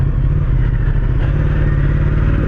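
Ducati XDiavel S motorcycle engine braking in a parking lot, a loud, steady low rumble with rapid firing pulses held close throughout, no voices.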